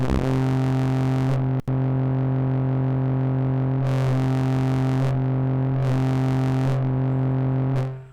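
A sine-wave synth tone fed back into a filter drones as a steady, buzzy sustained pitch with rich harmonics, briefly cutting out once and swelling with bright filtered bursts, loud and alone.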